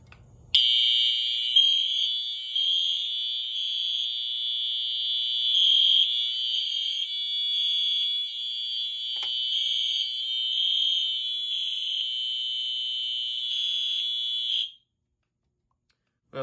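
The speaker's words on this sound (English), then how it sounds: "I'm actually gonna get my magnet and test this smoke detector" A loud, continuous high-pitched fire alarm tone, set off by a magnet test of an SD355 smoke detector, sounds for about fourteen seconds, then cuts off abruptly into silence.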